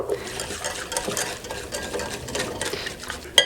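A thick béchamel sauce is stirred steadily in a pot on a stovetop, with a soft, continuous scraping and sloshing and small clinks of the utensil against the pot.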